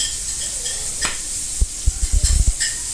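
Garlic sizzling in a pan as it is stirred, with a steady frying hiss underneath and a quick run of scraping, clattering knocks from the utensil against the pan toward the end.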